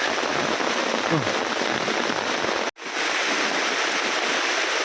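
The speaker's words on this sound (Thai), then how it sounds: "ฝนตกน้ำไหลเยอะมากนะ" Heavy rain pours steadily on a mountain hiking path leading up toward a waterfall, with running water streaming along the trail. The hiss is loud, dense and continuous, broken only by one brief dropout partway through.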